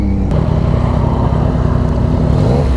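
A motorcycle revs loudly and close by, its engine blipping and growling in short bursts over a steady rumble, with no talk during it.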